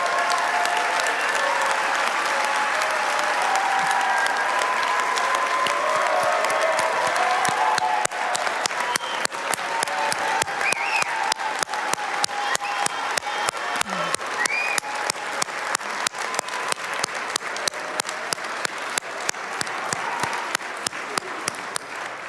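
Audience at a Galen College of Nursing graduation gives the new nursing graduates a long round of applause, loud and steady at first, then thinning into sparser, distinct claps toward the end.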